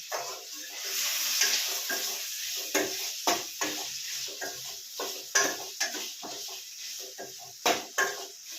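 Masala for sambar frying in a pan, a soft steady sizzle broken by a series of sharp scraping and stirring clatters of a spoon against the metal, close and fairly quiet.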